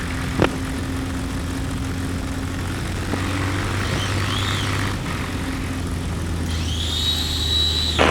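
A Bird Dog propeller plane lands at Katama airfield, its steady engine and propeller drone holding for several seconds with a rising whine near the end, heard at a distance with no talk.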